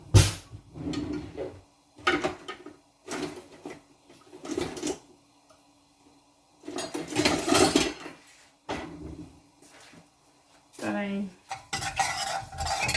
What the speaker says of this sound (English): we'll give it a bit of a stir as well